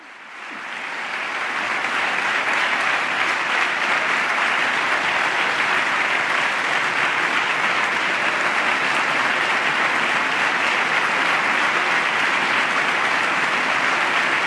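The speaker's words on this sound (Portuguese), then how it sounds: "E mais uma vez o Papa é aplaudido de pé." Sustained standing ovation in the US Congress for Pope Francis during his 2015 address, a dense roar of clapping from a large chamber crowd that swells within the first two seconds and holds steady, loud and unbroken.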